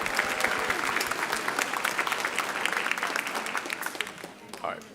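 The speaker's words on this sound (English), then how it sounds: "Another big round of applause for Evelyn." Audience applause at a Vietnamese American Heritage Night stage performance, a steady dense patter of many hands clapping close by that holds for several seconds and then begins to thin and fade toward the end.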